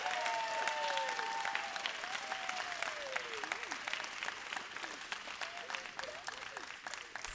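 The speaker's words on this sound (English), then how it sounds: "Everyone, please give a round of applause for the graduating class of 2034." Sustained applause from an audience at a kindergarten graduation ceremony at Fayette Christian School, dense steady clapping throughout with a few voices faintly audible beneath it.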